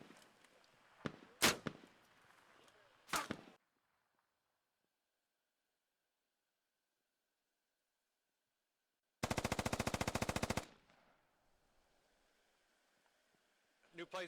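SAW light machine gun firing in the Squad video game from a catwalk position, with short sharp bursts early, then a long sustained loud burst of rapid automatic fire, with radio-style talk and game ambience around it.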